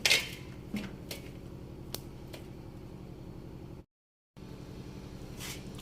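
Spices for a homemade healthy burger are mixed with a utensil in a bowl, giving faint, sporadic clinks and light scrapes close by, with a short silent gap near the end.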